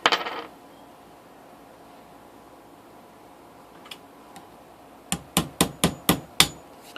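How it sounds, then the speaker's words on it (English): Hammer blows on a silver quarter being shaped into a ring: one strike at the start, a couple of faint taps, then six sharp, evenly spaced metallic strikes close up, with no talking. "So I'm going to hammer on this a little longer"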